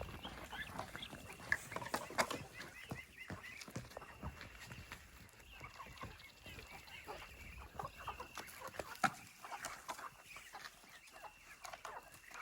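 Faint chickens and ducks in a village farmyard cluck and squawk repeatedly at a distance, with scattered scuffling and rustling noises around them.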